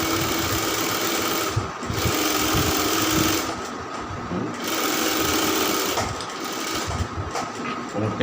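A sewing machine stitches a round kameez, its motor whirring in a fast steady chatter with brief pauses between runs of stitching, close and fairly loud.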